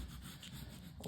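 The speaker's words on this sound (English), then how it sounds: "The first thing you want to do is you want to scrape up any remnants" A scraper drags across a floor lifting paint remnants, making faint, close rasping scrapes in short uneven strokes, with no voice over it.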